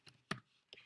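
Three quick, soft keystrokes on a computer keyboard, spaced clicks that are faint and close, with nothing else around them.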